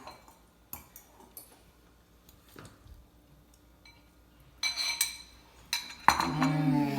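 Forks and cutlery clink against plates of pasta as people eat, with sparse light taps and scrapes at first, then louder clattering and ringing near the end.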